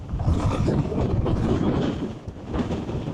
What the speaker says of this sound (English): it must be gusting 50 miles an hour at least. We're getting blown over.